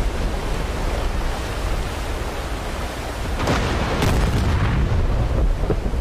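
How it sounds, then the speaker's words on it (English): A 14-inch battleship shell slams into a ship in a WWII naval video game, heard as a sudden heavy boom and crash over a dense, roaring wash of sea and battle noise, with a few sharp follow-up impacts. "big 14-inch shell smacking him in the face"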